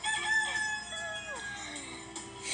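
A rooster crows once in a drawn-out call with falling pitch, close and fairly loud, played as part of a children's guess-the-sound game with no talk over it.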